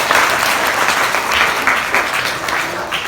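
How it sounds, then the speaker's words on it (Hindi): An audience at a patriotic Hindi song-and-poetry gathering bursts into loud, dense applause that holds steady throughout, close and full with no pause. "वो भी सुना दो तो ताली बजाओ भाई"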